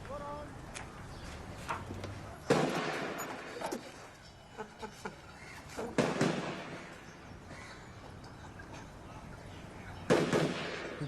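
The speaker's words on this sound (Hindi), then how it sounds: "फायरिंग रेंज है, रोज होता है बंदूक" Gunshots from a nearby firing range crack out at a distance as several sharp bursts, mixed with outdoor background noise and people talking.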